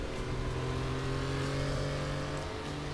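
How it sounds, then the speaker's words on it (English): Turbocharged 1976 Group 4 Porsche 934 RSR race car of 480 horsepower in RaceRoom, its engine holding a steady, buzzing drone at moderate level throughout, alone without talk. "on track we have the Group 4 1976 Porsche 934 RSR, 480 brake horsepower turbocharged"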